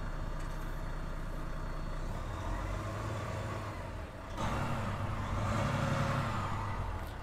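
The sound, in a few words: 2020 Volvo VNL 860 truck engine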